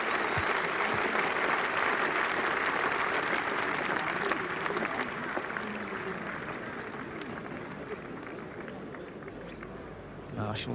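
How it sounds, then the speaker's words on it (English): Home crowd at a 1988 England versus West Indies cricket Test applauding a batsman reaching fifty, a steady, distant wash of clapping that slowly fades over ten seconds. "the home crowd giving him a deserved round of applause"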